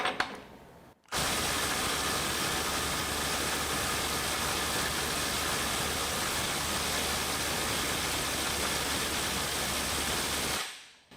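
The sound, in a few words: Milwaukee M18 FUEL 2853 impact driver running on a bolt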